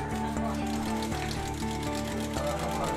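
Sewing machines stitch steadily in a village tailoring workshop for women, making a continuous mechanical hum with a fast repeating rhythmic tick, loud and close throughout.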